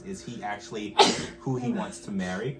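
A single sharp sneeze bursts out in the middle of people chatting during a TV reality-show recap, loud and close, with talking continuing right before and after it.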